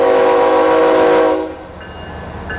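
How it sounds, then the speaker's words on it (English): A passing train sounds its horn loudly for over a second, then rolls on with a fainter rumble and clatter that fades into the distance. "there's the train"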